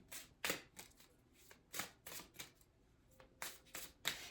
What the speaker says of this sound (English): I'm going to bring out 3 cards to finish the reading.